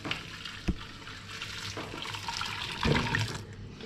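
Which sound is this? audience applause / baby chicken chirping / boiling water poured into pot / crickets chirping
boiling water poured into pot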